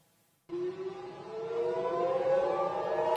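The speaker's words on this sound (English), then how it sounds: "Air raid sirens sound over central Israel, announcing incoming Iranian missiles." Air raid siren sounding over central Israel, warning of incoming missiles, a long wail that starts suddenly and slowly rises in pitch and loudness, heard from a distance.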